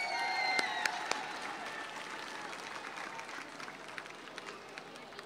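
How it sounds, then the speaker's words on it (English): Applause from a crowd gathered for Santa at the Pasadena Mayor's holiday tree lighting celebration, a steady, moderate patter of clapping mixed with a few sharp claps and faint talk. "I'd like to give Santa one more round of applause as well"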